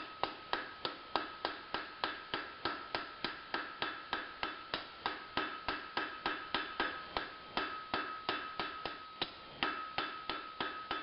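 A light blacksmith's hammer taps hot square steel stock as it is forged round, ringing out in a quick, steady series of bright metallic strikes, about three per second, close and clear with no talk.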